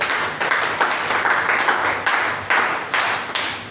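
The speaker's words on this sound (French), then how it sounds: "Acclame encore pour le Seigneur" A church congregation claps in a steady, loud rhythmic beat of about two claps per second, close and continuous, acclaiming the Lord during a worship service.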